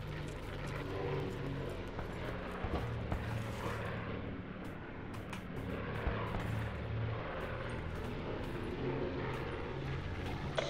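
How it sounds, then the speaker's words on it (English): Continuous low rotor-like drone of a helicopter in Call of Duty: Black Ops 4 Blackout, steady and fairly loud throughout, with scattered clicks and effects over it. "hear a helicopter"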